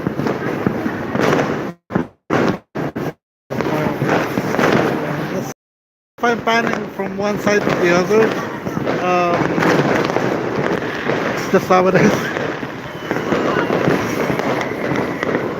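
New Year's fireworks burst from several directions, with loud cracks and booms, brief gaps and distant crackling, while someone talks over them throughout.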